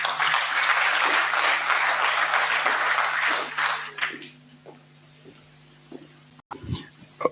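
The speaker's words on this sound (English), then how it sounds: "Why are you clapping?" An audience claps after a presentation at a SACCO leaders' gathering, dense applause for about four seconds that then fades to a few scattered claps, with a steady hum underneath.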